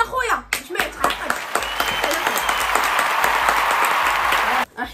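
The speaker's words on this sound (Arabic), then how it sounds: "يا محمد امين صفقوا على خويا باش ما يتعقد" A group of people clapping for a brother at home, steady continuous applause filling most of the moment after a brief voice at the start, then stopping abruptly.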